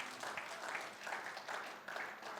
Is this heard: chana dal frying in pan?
no